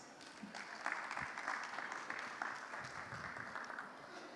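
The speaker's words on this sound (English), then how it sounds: "let's give her a round of applause." Steady applause from an audience, a dense wash of clapping that holds at an even level throughout with no voices standing out.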